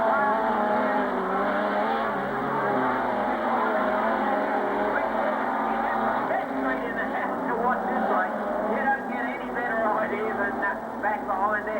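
Modified sedan race cars battle at Carrick Speedway during the 1998 Australian modified sedans title, their engines a continuous loud roar under a commentator's running talk.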